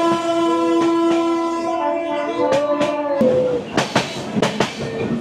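A passenger train around Dum Dum Junction in Kolkata sounds a long, loud, steady horn up close, then the horn stops and heavy rhythmic clattering and rail bangs follow.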